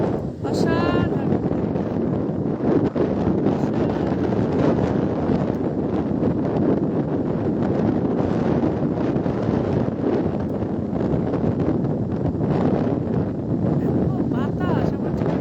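Strong wind blows steadily at Inani beach by the sea, a loud continuous roar buffeting the microphone throughout, with only brief faint traces of a voice.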